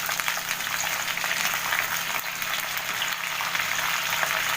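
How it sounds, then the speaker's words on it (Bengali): Vegetables frying in hot oil over a raised flame for a dried-fish and bean-seed dish, a steady close hissing sizzle that holds evenly throughout with no talk. "সবজিগুলো নাড়াতে থাকবো।"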